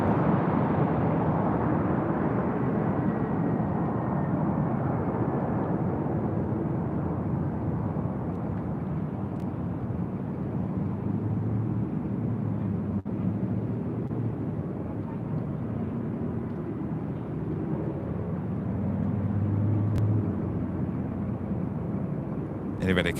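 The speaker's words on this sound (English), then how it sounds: "That was Southwest Airlines Flight 930 coming in from San Jose, California in the 737-700" A Southwest Airlines Boeing 737-700 jet arriving at LAX on a flight from San Jose gives a broad, steady engine roar held at a constant level, with some talk over it.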